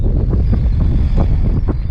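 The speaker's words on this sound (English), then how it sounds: "God, it's so windy." Strong gusty wind buffets the microphone outdoors at a dam during bass fishing, a loud continuous rumble with no voices.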